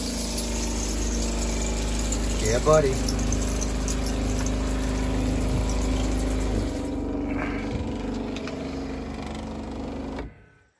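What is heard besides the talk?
shower pump running, water flowing from shower head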